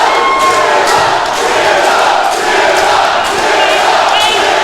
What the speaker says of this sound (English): a sold-out, record-breaking crowd at the Walker Texas Lawyer Arena are chanting for Zilla Fatu